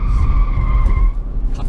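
Tires of a Volvo S90 D4 sedan squeal as they lose grip in a corner, a loud, close, sustained high-pitched screech over low road rumble that fades out after about a second.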